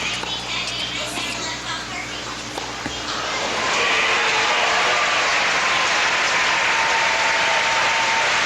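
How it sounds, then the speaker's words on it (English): Tennis crowd at the 1998 Cincinnati Masters final between Rafter and Sampras swells into loud, sustained applause, preceded by quieter crowd ambience and a few isolated sounds before the clapping builds. "you could tell from that applause that he's immensely popular"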